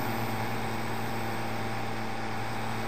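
A tractor engine in Farming Simulator 22 running at a steady, unchanging drone, a loud continuous hum with a constant tone and no breaks or revving, and no voices.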